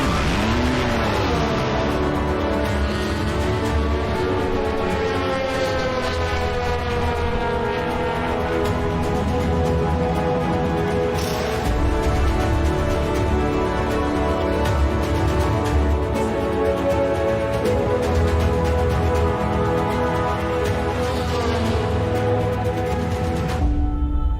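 A race car engine roars continuously and loudly, with rising and falling harmonic revs and tire squeals over a sustained racing din, and no talk.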